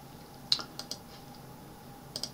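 Quiet, scattered keystrokes on a computer keyboard while entering a program in Mathcad, a few isolated clicks in a near-silent room.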